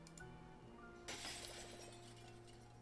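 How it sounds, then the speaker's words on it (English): Glass breaking in a video game sound effect, a sudden sharp crash with tinkling shards heard over a constant background music bed. "Suddenly, you hear the sound of breaking glass."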